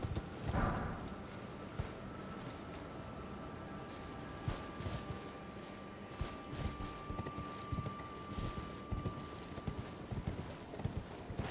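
Horse hooves clip-clop steadily in the Elden Ring video game, a rhythmic gallop running throughout over a layer of game ambience and effects.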